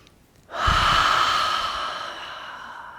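One deep, close breath taken through the nose during an energy yoga session, a loud airy rush that starts abruptly and slowly fades over a couple of seconds.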